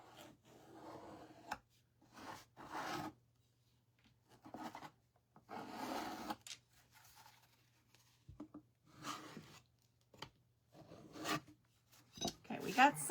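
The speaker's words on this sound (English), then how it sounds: "we can take our sanding block where we need more." Short bursts of a sanding block rasping across a wooden craft surface being distressed over wax, each stroke a scratchy rub separated by quiet pauses, fairly close.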